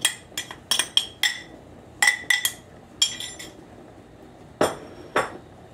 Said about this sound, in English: this gets stirred in